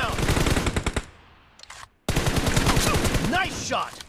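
Rapid automatic gunfire in a team shooter video game, dense loud bursts of shots that stop for about a second and then resume in another long volley, with game voice callouts over it.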